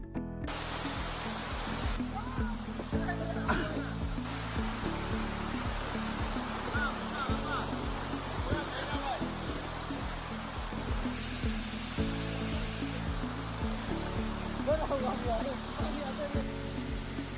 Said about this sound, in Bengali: অবশেষে দীর্ঘ প্রতীক্ষার পর আমরা চলে আসি আমাদের কাঙ্ক্ষিত ছাগলকান্দা ঝর্ণায়